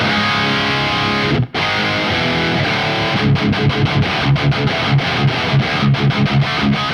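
Heavily distorted electric guitar through a Neural DSP amp plugin on a Brit 2203 preset plays steadily, with a brief dropout, then rhythmic palm-muted chugs toward the end; no voices.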